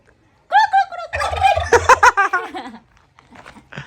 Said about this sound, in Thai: ไก่งวง